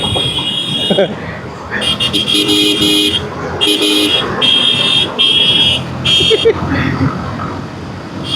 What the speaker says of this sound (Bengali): পিছন থেকে হর্ন দিতেছে।